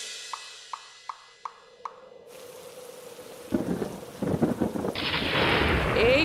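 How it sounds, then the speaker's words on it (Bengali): A sudden thunderstorm breaks in: a few sharp taps give way to rolling thunder and heavy rain building to a loud, steady roar. "ঝড় বৃষ্টি শুরু হয়ে গেল"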